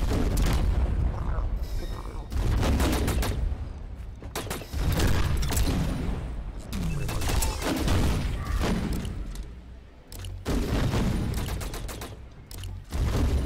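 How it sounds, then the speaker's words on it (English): In the video game The Signal From Tolva, a bandit gun turret fires repeated loud bursts and booming shots in an irregular barrage, with a voice talking in between. "Yeah, that's a bandit gun turret, I think."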